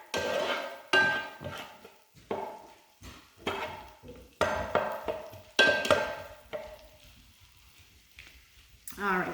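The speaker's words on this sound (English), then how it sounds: "I want to make sure we stir that around so everything is buttered." Butter being stirred in a metal soup pot for tomato soup, a utensil clinking and scraping against the pot in irregular bursts, close by, with brief pauses between strokes.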